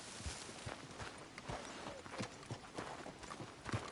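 Horse hooves clip-clop at a walking pace in Red Dead Redemption 2, a steady run of soft thuds close by with faint game ambience behind.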